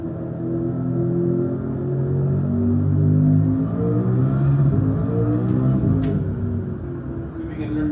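A car engine revving hard while drifting in Gran Turismo 7, a steady, loud, close roar with shifting pitch and faint tire squeals near the end, alongside speech.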